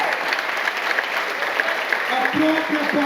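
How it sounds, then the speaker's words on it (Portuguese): A church congregation applauds during a communion service, a dense, steady wash of many hands clapping together, fairly loud and continuous, with a voice briefly audible underneath toward the end. "pode aplaudir Jesus"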